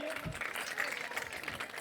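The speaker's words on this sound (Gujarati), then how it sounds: "બંને ભાઈઓને જોરદાર તાળીઓથી આપણે વધાવીએ" Applause for two guests at a Ras Manjari event at JNB Gyanmanjari Vidyapith in Botad, heard as brief, faint, dense clapping from a crowd, with a voice over it.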